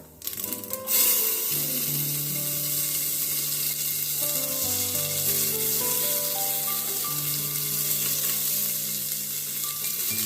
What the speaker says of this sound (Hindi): घी रोषे कर जीरा पकईदेवा, तेजपत्र को पकईदेवा